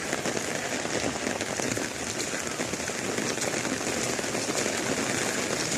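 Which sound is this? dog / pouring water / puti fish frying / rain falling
rain falling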